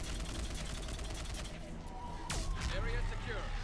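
Rapid gunfire in Mass Effect 3 crackles steadily beneath a game soundtrack and voices, with a sharp sweeping effect cutting through midway.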